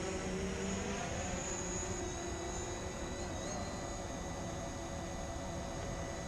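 A small camera drone sets down for a landing, its rotors giving a steady, close, continuous high whirring drone with a broad noise hiss, unbroken and without talk.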